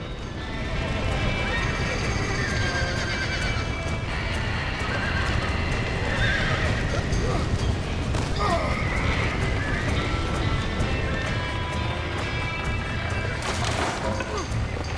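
Horses whinny and neigh over a constant rush of clattering hooves in Red Dead Redemption, loud and busy throughout, with a crash or two in the mix.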